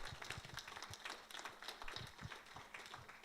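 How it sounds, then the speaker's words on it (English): Applause for the presenter Seng Mah at the close of an online club meeting joined over Zoom, a steady and fairly faint patter of many hands clapping that runs throughout with no talk. "big round of applause for Seng and say thanks very much"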